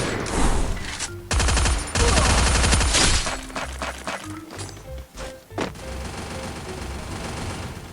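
Bursts of gunfire from a Free Fire mobile battle royale match, with dense rapid volleys and heavy thuds at the start followed by scattered single shots and impacts, loud and close throughout.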